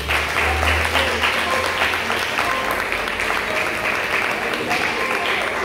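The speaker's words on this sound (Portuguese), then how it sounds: "Quem crê, diga amém e dê um aplauso a Jesus." A church congregation applauds at a service, a dense, steady wash of many hands clapping that fills the room throughout, with voices cheering faintly amid it.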